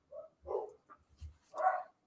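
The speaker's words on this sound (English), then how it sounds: "You got the pup in the background." A small dog, a pup, gives a few short barks and whimpering yips in the background, faint and spaced out, with no talking over it.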